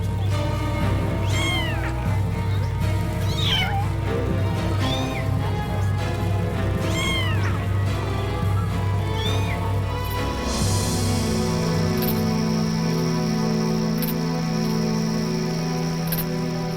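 Repeated cat meows rise over a continuous bed of background music through the first ten seconds, then stop as the music shifts to sustained tones.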